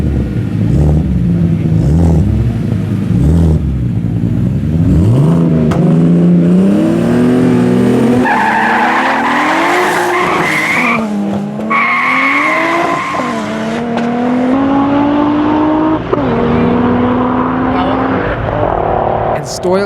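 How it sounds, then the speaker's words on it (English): A BMW N54 135i and a turbocharged E30 race in an underground street event, with loud engines revving and climbing through gears, tires squealing, and a voice talking over the noise. "CCD built N54 135i versus Butler built E30 Turbo."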